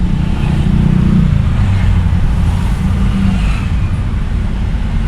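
Steady low rumble of congested street traffic, cars and motorcycles, comes in through an open window of a 2018 Toyota Kijang Innova Reborn 2.4 G, a continuous loud engine drone with no talk.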